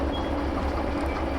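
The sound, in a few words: train stopping in the video game Derail Valley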